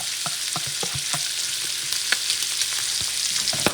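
Steamed vegetables, carrot and rice stir-fried in a pan, sizzling steadily and loudly up close while a utensil scrapes and stirs in irregular taps, with no talking.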